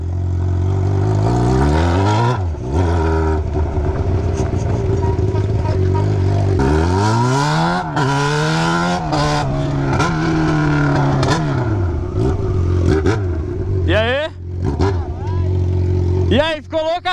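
A Yamaha XJ6 motorcycle revs through a slow wheelie, its engine loud and close with rising and falling pitch sweeps, while someone talks over it throughout.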